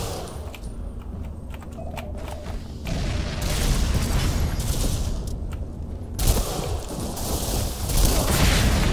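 A grenade goes off in Tom Clancy's Ghost Recon amid ongoing gunfire, one sharp booming blast near the end standing out from scattered shots and rattling clatter in the firefight.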